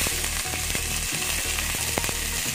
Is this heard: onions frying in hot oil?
yes